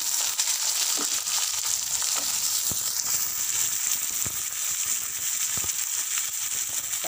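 Onions sizzle and fry steadily in hot oil for a South Indian tomato gravy, a continuous bright crackle with faint stirring scrapes throughout, no voices.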